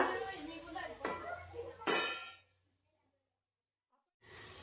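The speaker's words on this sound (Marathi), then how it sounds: "आता आपण कढईवर झाकण ठेवूया" A metal lid clangs and rattles against a kadhai of mixed vegetable curry a few times, ringing briefly before silence, then faint background noise returns.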